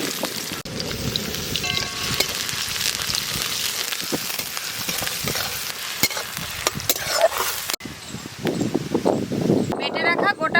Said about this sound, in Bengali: তেল গরম হয়ে গেছে, পেঁয়াজ কুচি দেব।